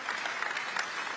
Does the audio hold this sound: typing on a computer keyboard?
no